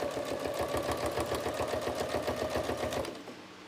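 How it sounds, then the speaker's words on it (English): A 9450 QCP quilting sewing machine stitches a trapunto cushion in a fast, even run of needle strokes, close and steady, then stops abruptly near the end. "That's the one, 9450 QCP. I quite like it. It is essentially a quilting machine, so it's quite a big machine."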